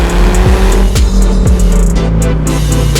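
Fiat Coupe 20V turbo five-cylinder engine revving loud and close, with a steady harmonic drone broken by quick rising and falling pitch sweeps, no voices.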